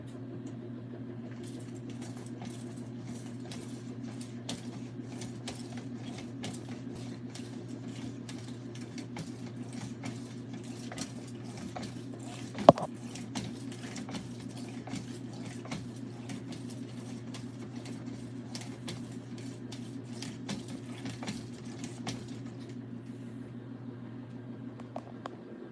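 An LG ThinQ MEGA washer hums steadily through its final spin, a low continuous drone with faint clicks and one sharp knock midway, running alone without talk.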